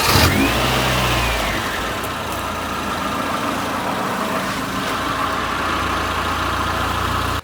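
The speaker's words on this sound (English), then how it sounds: "Listen to this exhaust box while I'm here." Engine of a Proton 1.5 SE car running at the exhaust box, a loud, steady close rumble with a small rise in revs at the start and no talk.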